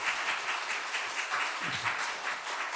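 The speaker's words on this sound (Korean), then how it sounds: "우리 박수하겠습니다" A church congregation applauding steadily, a soft, even patter of many hands clapping at a moderate distance.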